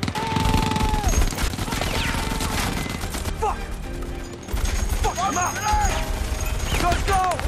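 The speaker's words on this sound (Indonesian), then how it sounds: "Di atas, War Daddy masih sibuk menunggang kaliber 50-nya." .50 caliber machine gun firing in a film battle scene, with dense rapid bursts of gunfire and crashes over a rumbling battle din and a narrating voice talking over it.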